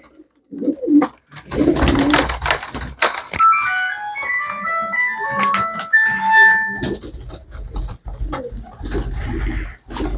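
Pet pigeons kept for sale coo among handling thumps and rustles, with a high, tuneful warbling pattern running through the middle, close and fairly loud.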